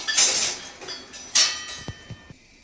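Salt being stirred in a pan while heating for roasting peanuts at home, giving a few close, scraping clinks and metallic taps against the pan, with quieter gaps between strokes.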